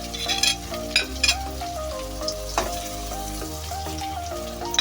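Chopped ginger, green chilli and tomato masala frying in hot oil for a Pakistani home-style bathua dish, a steady close sizzle with a few sharp spatula clinks and stirring scrapes throughout.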